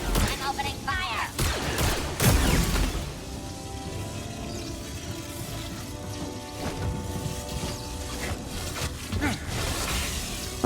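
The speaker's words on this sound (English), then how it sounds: "I'm opening fire." Blaster fire from Star Wars Jedi Survivor erupts in dense, loud bursts over game music and effects, with crashing impacts early on and a steady wash of action noise, while a voice talks over it.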